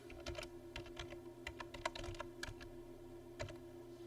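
A computer keyboard is typed on at close range, entering a new tab name in an Excel spreadsheet; the clicks come in uneven clusters and pauses over a low background hum, with no voices.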